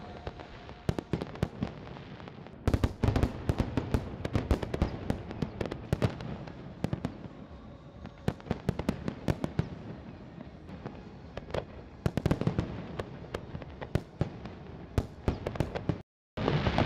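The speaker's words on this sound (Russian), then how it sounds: "Масштабный концерт в честь дня рождения Грозного завершился зрелищным салютом." Fireworks salute closing a large city-day concert in Grozny, a rapid barrage of sharp bursts and cracks with echoing booms, dense and continuous, heard from a distance in the open air.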